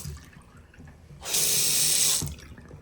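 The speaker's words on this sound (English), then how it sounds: "But here is your sink." A tap runs into a bathroom sink in a hotel room at the Hyatt Regency in downtown Dallas, a steady hissing rush of water lasting about a second, close by, rising sharply and stopping abruptly.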